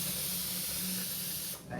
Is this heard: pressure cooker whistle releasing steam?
yes